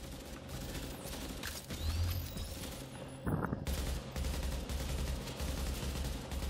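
Scattered gunfire bursts from a firefight in The Division's Dark Zone, sharp cracks spread unevenly across a noisy game soundscape, with no voices.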